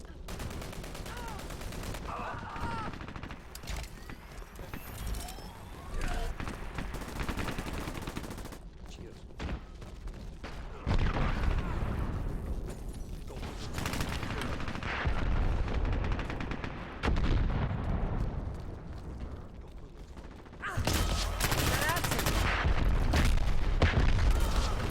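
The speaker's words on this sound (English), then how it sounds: "Primary weapon's that machine gun, that's pretty good actually." Machine gun fire in the Dirty Bomb shooter, with dense, sustained automatic bursts and heavy booms continuing nearly without pause. Battle noise stays loud and close, and someone talks over part of it.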